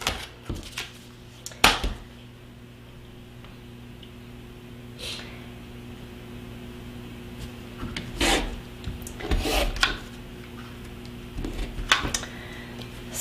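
A rotary cutter slices quilting fabric along a square ruler, making short scraping rasps in scattered bursts, close and fairly quiet over a steady low hum, with no talking.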